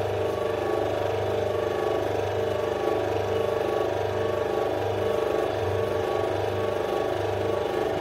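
A split-phase induction motor runs on a balancing test stand, giving a steady, loud mechanical hum with a faint rhythmic pulsing that continues unchanged throughout.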